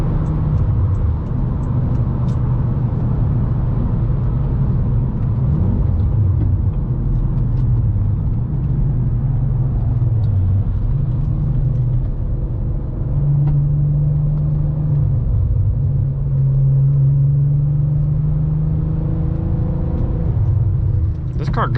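A Nissan Skyline R32 cruises at about 100 mph, heard from inside as a steady, subdued low engine and road rumble with a faint drone that barely shifts, continuous for over twenty seconds.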